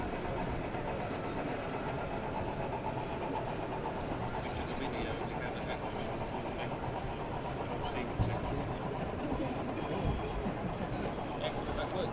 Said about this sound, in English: We just catch this train going through.